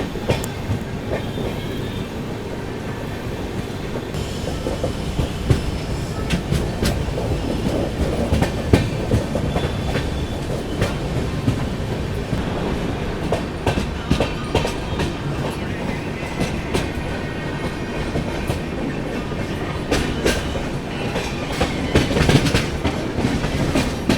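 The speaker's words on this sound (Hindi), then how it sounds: "अपनी लिच्छवी एक्सप्रेस ने स्किप कर दिया दोस्तों बनारस रेलवे स्टेशन को।" The Lichchavi Express passes straight through Banaras railway station without stopping, a steady loud rumble of wheels with rhythmic clickety-clack over rail joints, sustained throughout with no voices.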